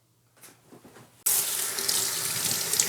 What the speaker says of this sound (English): And now I'm going to rinse it.